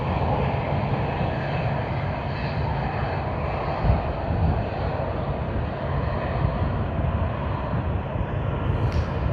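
An airliner in Pride livery rolls down the Sydney Airport runway on takeoff, its engines giving a continuous loud roar with low rumble and no speech over it.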